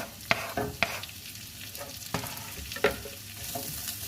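Garlic frying in hot oil in a pan for a Spanish tortilla, a close, steady sizzle punctuated by a few sharp clinks of a utensil against the pan, with no one speaking.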